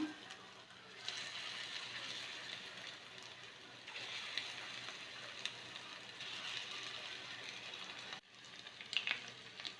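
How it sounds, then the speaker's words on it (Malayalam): Chicken frying in hot oil in a pan for chicken 65, a steady, soft sizzle and crackle that swells in waves and drops briefly before crackling again. "ഇനി നമുക്ക് ഈ ചിക്കൻ ഒന്ന് ഫ്രൈ ചെയ്തെടുക്കാം"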